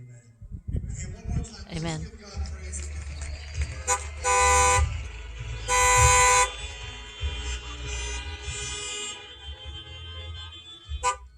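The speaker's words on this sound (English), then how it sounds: "Everybody's praising the Lord with their horns, their cars." Car horns honk outside a church service, with two sustained loud blasts and several shorter toots amid voices and vehicle rumble.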